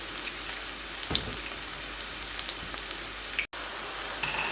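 Onion and carrot frying in a pan, an even, close crackling sizzle like light rain that holds steady, with a couple of faint clicks and a momentary dropout.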